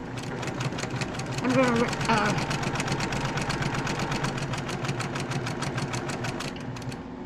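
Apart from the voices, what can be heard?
sewing machine stitching a quilt seam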